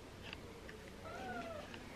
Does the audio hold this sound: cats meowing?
yes